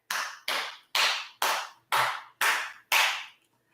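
A single pair of hands claps seven times in a steady, deliberate rhythm, each clap sharp, close and loud with brief silence between, ending on a short pause.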